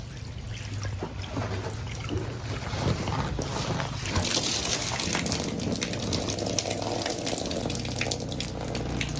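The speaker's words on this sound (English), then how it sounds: "You can see it really well when I splash water up on top of it." Water splashes and sloshes against a water-repellent center console boat cover outdoors, a steady rushing wash with wind buffeting the microphone throughout.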